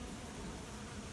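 Honey bees buzz loudly and continuously around an opened Langstroth hive during a fall inspection, a dense, even drone with no pauses.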